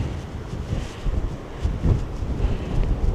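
Strong wind buffets the microphone in gusty, rumbling surges, with no voices present.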